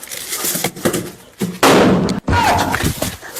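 A loud, sharp firecracker-like blast bursts out amid shouting and commotion, followed by a second heavy bang and continued noisy activity.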